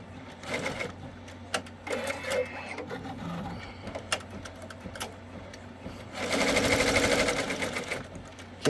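An Avance embroidery machine stitches a programmed color, its rapid mechanical needle chatter running steadily with small clicks and pauses, then swelling louder and denser toward the end.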